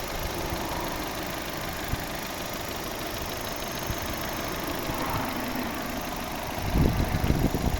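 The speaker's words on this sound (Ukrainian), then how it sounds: "Ось робота двигуна, наскільки рівно і тихо працює." A 2010 Opel Zafira's 1.6 MPI petrol engine idles evenly and quietly, a steady close hum heard alone with a louder rumble swelling near the end.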